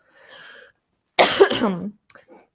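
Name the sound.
cough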